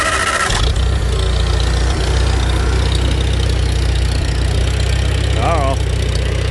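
A Farmall Super C tractor engine catches and settles into a steady, loud, low-pitched idle right up close, a continuous throbbing chug with a brief voice-like sound partway through.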